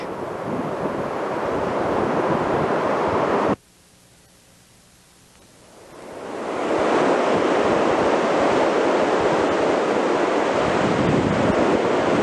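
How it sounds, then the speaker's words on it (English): Surf washing onto the rocky shore at North Torrey Pines State Beach, a loud broadband wash that drops off sharply into near-quiet for a couple of seconds, then swells back into steady roar. "This is North Torrey Pines State Beach, and we're going to go down there"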